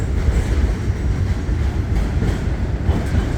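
An NYC subway W train pulls out of Astoria Ditmars Blvd, a loud, continuous rumble of wheels and cars rolling close by, with faint rhythmic clatter over the track.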